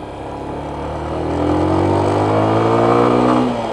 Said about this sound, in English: this engine just sounds a little bit almost like piston slappy or main bearing